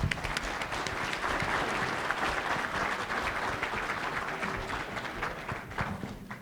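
A breakfast audience at an economic outlook event applauds warmly for a guest speaker, the dense, even clapping of a sizable crowd held steady for several seconds.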